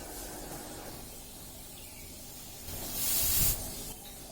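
A soft background hiss swells into a sharp, bright burst of escaping freon gas from a pierced refrigerant can near the end, close and loud before cutting off.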